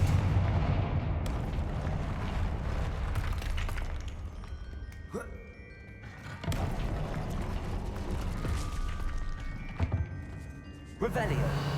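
Confringo fire spell blasts in the Hogwarts Legacy video game: a few loud, booming explosive bursts over a steady rumbling game background, with some voices heard.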